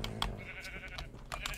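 Sheep bleating in a Minecraft UHC game, a few short nasal bleats at low volume alongside faint clicky key taps.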